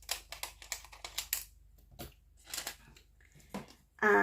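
Heat resistant tape being cut, giving a series of crisp snipping and crinkling clicks up close, quiet with brief pauses between cuts.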